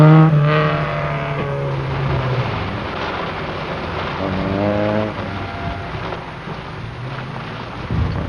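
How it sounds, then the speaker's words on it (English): Audi rally car engine racing at the 1974 Liban Syrie Rallye: a loud, close engine revving through rising and falling gear changes, with wind rushing and no voices. "Zirka, hard pressed by another Audi."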